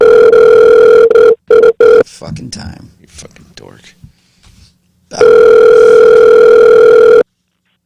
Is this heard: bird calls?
no